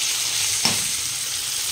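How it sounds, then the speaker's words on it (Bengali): Hilsa fish heads fry in hot oil in a home kitchen, giving a steady, moderately loud sizzle with one brief pop partway through and no voices. "রান্না বসিয়ে দিয়েছি, ইলিশ মাছের মাথা ভাজছি।"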